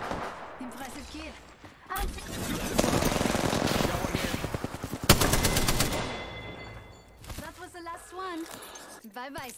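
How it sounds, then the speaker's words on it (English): Automatic gunfire in the video game Apex Legends: long bursts of rapid rattling shots, loud and close, with a player talking over the firing. "And now I'm going to shoot him."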